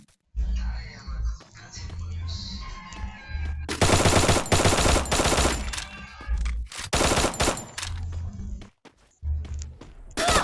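Bursts of automatic gunfire from the M887-style weapon in a shooting video game crackle in loud rapid volleys, with a long sustained burst mid-clip and shorter bursts around it over quieter game ambience.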